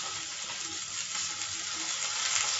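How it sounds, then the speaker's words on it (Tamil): Tomatoes fry in a pan for a mutton gravy, producing a continuous hissing sizzle with faint crackles, steady and close with no voices. "தக்காளி நல்லா வதங்கணும்."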